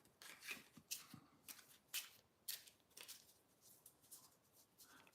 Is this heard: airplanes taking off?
no